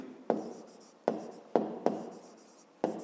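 Handwriting strokes during a fifth-grade math exercise: five sharp, close scratches of pen or pencil on paper, each a quick onset trailing off, spaced unevenly across the stretch with no talk.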